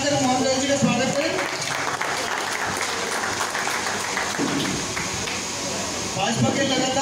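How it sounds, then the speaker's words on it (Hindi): A crowd at a BJP event applauds a newly appointed district president in Delhi, dense sustained clapping that fills the whole stretch, close and loud. "एक बार जोरदार ताली बजाकर मोहन गोयल जी का स्वागत करें।"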